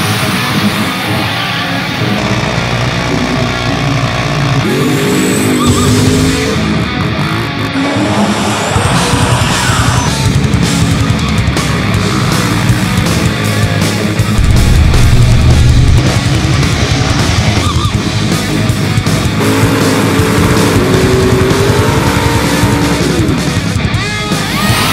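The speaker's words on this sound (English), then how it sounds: "100 horsepower Banshee, here we come." A Yamaha Banshee 472 stroker ATV engine, a 100-horsepower build, revs hard and loud, rising and falling in pitch with rough, continuous roar for the whole stretch.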